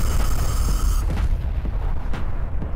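A heavy explosion in Garry's Mod roars loudly with a deep, rumbling blast that slowly tails off into crackling noise.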